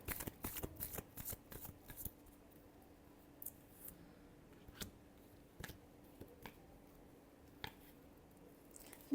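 Tarot cards are shuffled close up in quick flurries of riffling and snapping, thinning out into sparse, soft taps and flicks over a quiet background.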